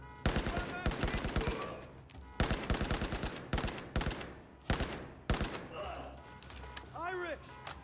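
Battlefield 4 video game gunfire: rapid bursts of automatic weapons fire come in several clusters, loud and close, with sharp cracks. Shouted voices break in between the bursts.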